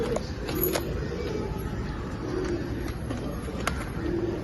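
Soft, intermittent cooing from pigeons in a loft of pedigree birds, a few low calls spaced across the stretch over constant background hum, with occasional sharp clicks.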